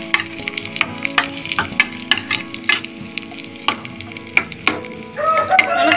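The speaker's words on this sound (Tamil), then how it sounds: "நல்லா சிம்மில் வச்சு ஒரே மாதிரி வறுத்துக்குங்க." Raisins and cashews roast in a pan on low heat, with a busy run of spoon clinks and scrapes against the pan over a faint sizzle, fairly loud and close, and no voices.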